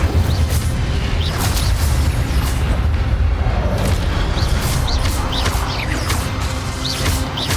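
Fire spell blasts and magical impacts from Hogwarts Legacy, a dense run of loud crashing bursts and booming hits over continuous game noise, with no pauses.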